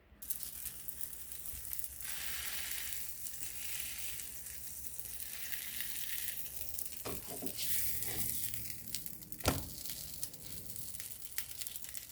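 Grilled cheese sandwich frying in a pan, a steady close sizzle with occasional scraping and crinkling handling noises over about twelve seconds.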